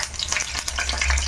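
Mustard seeds and cumin sizzle and crackle in hot oil for a tempering, a steady close frying hiss with scattered pops and no voices.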